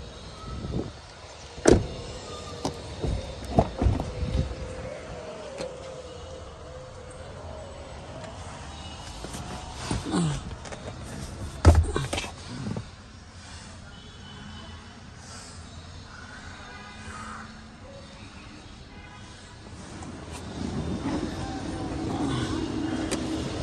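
The panoramic sunroof motor on a 2022 Toyota Corolla Cross whirs in a sustained electric hum, broken by a few sharp clicks and knocks at close range.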